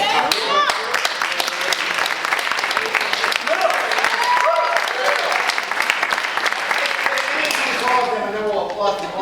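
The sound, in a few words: audience applause for playwrights at theatre festival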